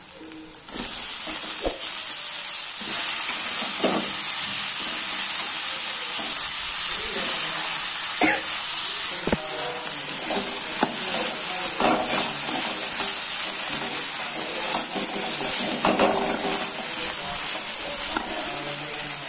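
Raw banana slices fry in hot oil with ginger, garlic and onion, making a loud, constant sizzle and hiss with occasional clatter from stirring throughout.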